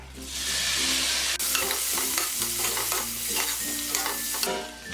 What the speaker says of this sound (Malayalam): ഇതിലേക്ക് ഇനി എടുത്തു വെച്ചിരിക്കുന്ന പനീർ ഇട്ട് ഒന്ന് റോസ്റ്റ് ചെയ്തെടുക്കാം.